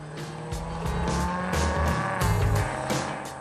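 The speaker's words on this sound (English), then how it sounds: "you may never tire of the music the engine makes." A Maserati GranCabrio convertible powered by a Ferrari engine drives hard, its engine note rising and falling loudly and up close through gear changes, with tire squeal mixed into the steady roar.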